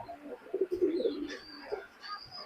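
Pakistani high-flying pigeons, red-eyed birds, coo softly at close range in a few low, murmuring phrases, with faint chirps and light background noise between them.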